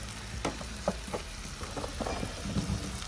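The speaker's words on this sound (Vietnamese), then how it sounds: "bây giờ mình nướng cá, nướng thịt mình ăn" Fish and meat grilling outdoors in a backyard in Australia, a steady close sizzle and crackle with scattered pops and small spits of fat, no talking.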